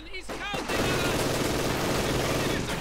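Rapid bursts of light machine gun fire in Company of Heroes 2, a dense, continuous crackle of shots starting after a brief pause and holding loud and steady to the end.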